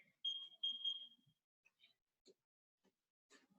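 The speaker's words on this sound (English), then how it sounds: "Set the timer here." A timer beeps three times in quick succession, a fairly quiet electronic tone, marking a 45-second medium-speed sparring round in a beginners' martial arts class; faint scattered noises follow.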